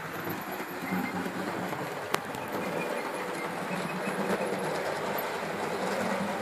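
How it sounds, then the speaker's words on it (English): A model train rumbles steadily along layout track with a continuous rolling clatter and faint rhythmic clicks, moderately loud with no talking. "The train's coming round."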